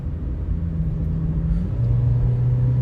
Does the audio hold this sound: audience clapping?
no